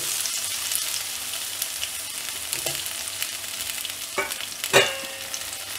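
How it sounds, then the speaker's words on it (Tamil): Cut potatoes sizzle steadily in hot oil with cumin while a spoon stirs them, giving a continuous crackling hiss broken by a few brief scraping stirs near the end. "உருளைக்கிழங்கு ஆட் பண்ணிவிட்டு இதை நல்லா இந்த எண்ணெயில் வதக்கி விடணும்."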